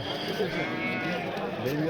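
Sheep bleat at an outdoor livestock market amid constant crowd chatter, with a few faint, brief cries rising through the busy hubbub and voices talking throughout.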